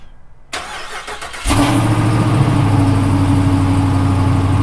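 A 6.4 Hemi V8 engine cranks and catches on a cold start, then settles into a loud, rumbling, steady idle close by.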